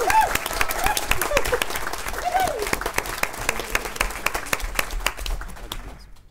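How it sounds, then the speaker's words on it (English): An audience applauds steadily at a bloggers' innovations presentation at World Travel Market 2012, a dense wash of clapping with some voices mixed in, tapering off toward the end. "Cheers, clap."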